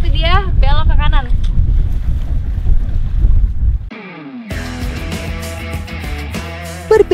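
A sandek, a traditional Mandar outrigger sailboat off Majene, sails in strong wind, with steady wind roar and water rush throughout, a brief voice near the start, and music rising in the later part.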